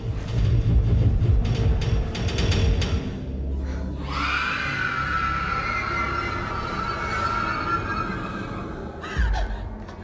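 A long, high, piercing scream in a school computer room during a film scene rises after a stretch of rumbling noise and holds for several seconds before cutting off.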